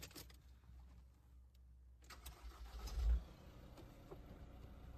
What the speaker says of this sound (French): Moteur tournant